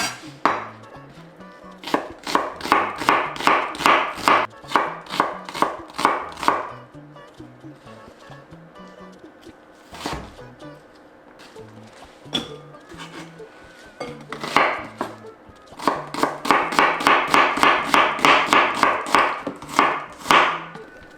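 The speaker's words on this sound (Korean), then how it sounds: "채 썰어서 좀 중간에 한번 잘라줘야 돼요." Rapid bursts of a knife julienning vegetables against a cutting board, likely carrots among them, for perilla leaf kimchi, with two long runs of quick even chops split by a quieter pause with scattered single knocks.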